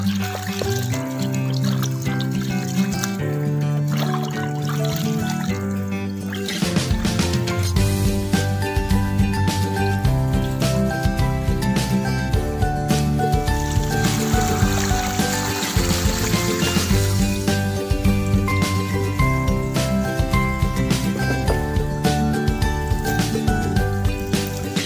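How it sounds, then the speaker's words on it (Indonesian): Taro stems rinsed under a running kitchen tap, a steady trickle and splash of water that continues throughout, under constant music and without any speech. "baru kita cuci bersih lompong dengan air mengalir"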